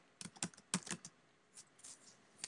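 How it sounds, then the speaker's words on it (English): Soft, close keystrokes on a computer keyboard in short irregular bursts, quiet and alone with no talking. "I'm just going to type rectangle,"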